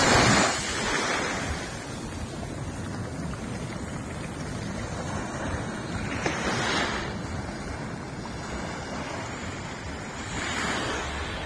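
Big ocean waves roll in at La Prairie beach, Mauritius, a continuous roar of surf with wind buffeting the microphone and louder crashes arriving every few seconds.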